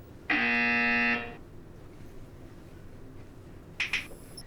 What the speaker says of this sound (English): a buzzer is heard